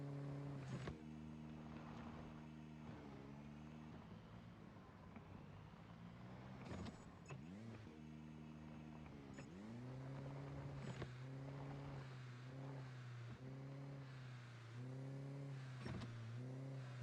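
A low-fuel car driven in the zombie survival game Project Zomboid hums and revs through repeated rising and falling engine pitches, steady and fairly close, with no talk.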